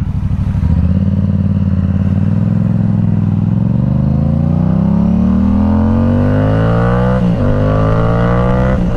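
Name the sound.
Yamaha R7 motorcycle with aftermarket exhaust revving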